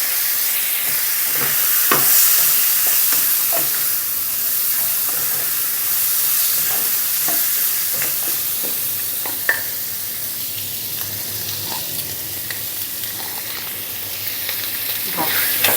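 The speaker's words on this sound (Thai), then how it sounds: "ผัดไปเรื่อยให้ไก่เราสุกนะคะให้หนังสุกค่ะ" Steady sizzling of chicken pieces with skin stir-frying in a pan for Thai braised egg and chicken stew, with scattered scraping and clinking of a utensil stirring throughout; no voices.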